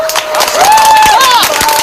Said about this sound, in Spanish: ¿Puedes decir que estamos aplaudiendo?